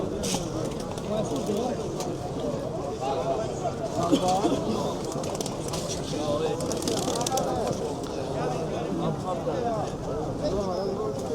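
Soft pigeon coos mingle with a busy crowd of people talking nearby at the Sabunchu bird market in Baku, with scattered bird calls and market bustle throughout.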